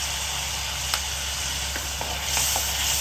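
Grated tomato sautéing with a green paste of ginger, garlic, chillies and coriander, a dense continuous hiss and sizzle with a few faint stirring knocks, close and steady.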